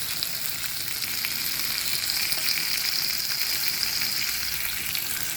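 Vegetables sautéing in butter and olive oil give a steady, even sizzle and crackle that stays close and constant throughout, with no talking.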